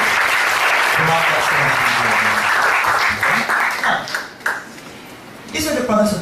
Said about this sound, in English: A warm applause for